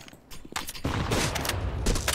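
Gunfire from the Counter-Strike video game crackles in a rapid, loud burst of shots that stays dense and close through most of the moment, with no talking over it.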